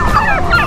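Male turkeys gobbling in a poultry yard: a loud, close, rapid warbling gobble, brief and repeated twice within under a second.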